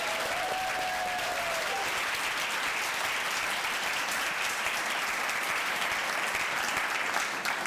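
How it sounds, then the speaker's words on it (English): An audience at a teaching fellows ceremony applauds the honorees, a full, sustained round of clapping that stays steady and fairly loud throughout, with a brief voice heard near the start. "So one more round of applause."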